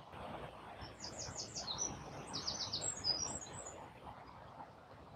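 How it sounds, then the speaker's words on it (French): Several small birds sing and chirp in bright, overlapping bursts over a steady outdoor background during a calm outdoor session, continuing throughout. "Remerciez le chant des oiseaux qui nous amène dans l'instant présent."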